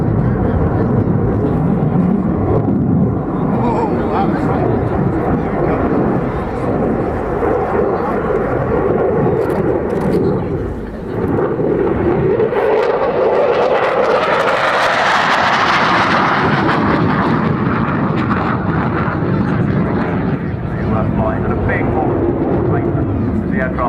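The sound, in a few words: Belgian Air Force F-16 jet display at airshow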